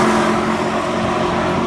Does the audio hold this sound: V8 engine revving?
yes